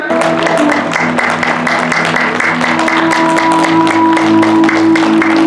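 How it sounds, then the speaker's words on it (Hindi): A large crowd claps steadily and loudly to begin clap yoga at a state-level International Yoga Day event, with sustained dense applause and a tonal drone running underneath. "मैं सभी से आग्रह करूंगा कि जोरदार तालियों से कृपया ताली योग शुरू करें"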